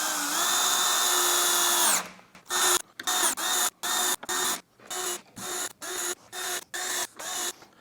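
A power drill drives 1.5-inch screws into a cabinet, a long whining run followed by a rapid series of short trigger bursts, close and fairly loud with no talking.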